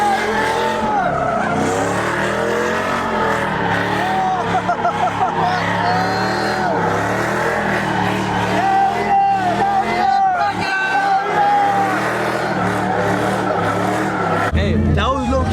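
Tires squeal and engines rev as a truck skids at a large car meet, a continuous loud screech and roar for the whole stretch, with crowd voices talking and shouting over it.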